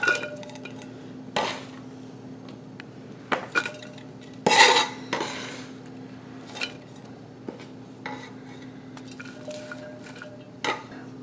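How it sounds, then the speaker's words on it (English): Sliced yellow onion and green pepper tumbling into a crock pot, a series of irregular clatters, knocks and scrapes of utensils against the pot, close and moderately loud, with no speech. "to my crock pot I'm going to add my 1 yellow onion sliced and my 1 green pepper sliced"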